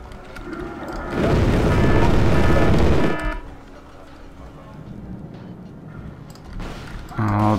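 Units fire in the Wargame Airland Battle video game, a loud, rumbling booming burst lasting about two seconds, followed by quieter low battle ambience, and a voice briefly comes in at the end.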